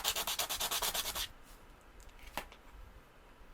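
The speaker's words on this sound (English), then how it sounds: "sandpaper to sand down some of the extra here" Dollar Tree sandpaper is rubbed quickly back and forth over a resin domino, giving about a dozen rhythmic, close-up scratchy strokes that stop after a second. Faint handling sounds follow.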